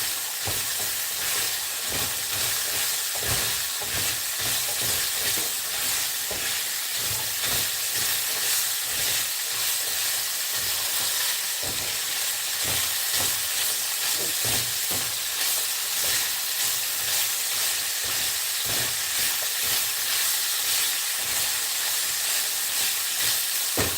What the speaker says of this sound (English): Let's add the onions and the peppers. Give that a quick stir.